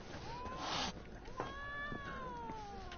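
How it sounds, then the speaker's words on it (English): Cats in the Witcher 3 game meow in a few drawn-out, rising and falling calls, close and clear over a quiet game soundscape, with one stretched caterwaul-like cry among them. "Ah, you kitties, get out of here."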